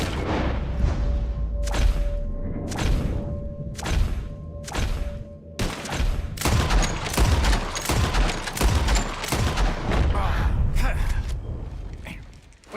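Repeated gunshots ring out while hunting birds in Red Dead Redemption 2, starting as spaced single blasts and building into a dense, rapid volley of loud cracks over the game's ambient sound.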